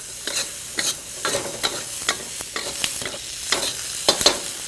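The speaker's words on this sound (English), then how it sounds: "Now we want to saute the green peppers for up to 5 minutes." Green peppers sauté in a hot pan, with a steady sizzle broken by repeated sharp scraping stirs at an irregular, fairly quick pace, close and moderately loud with no talking.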